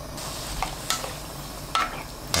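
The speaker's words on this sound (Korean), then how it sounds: "야채가 익을 때까지 끓여주세요." A sauce of water, sugar, vinegar, soy sauce and chopped vegetables heats on high, giving a soft continuous bubbling hiss broken by a few sharp clinks and stirring knocks, close by with no talking.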